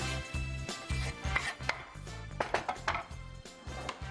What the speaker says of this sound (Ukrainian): І міленько-міленько її нарізаємо.